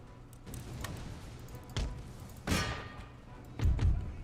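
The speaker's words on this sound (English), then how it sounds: "Finally, you throw the grenades." Grenades thrown and exploding in Empire: Total War, Austria around 1750: three dull thumping blasts at irregular intervals over a constant low battlefield rumble, the third loudest with a booming low tail.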